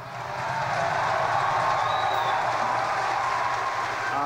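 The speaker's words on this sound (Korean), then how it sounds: "추진체가 8번째로 발사와 착륙에 성공하자 사람들이 환호합니다." A crowd cheers and applauds after a SpaceX first-stage booster lands for the eighth time, a sustained roar of clapping and excited voices at steady loudness.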